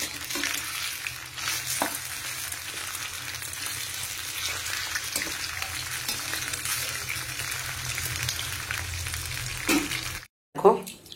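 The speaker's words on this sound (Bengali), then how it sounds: "দেখো ভাজা হয়ে গেছে চিকেন পকোড়াগুলো" Leftover chicken pakoras deep-fry in hot oil, a steady close sizzle and crackle running throughout with occasional stirring knocks, ending abruptly with a short clatter.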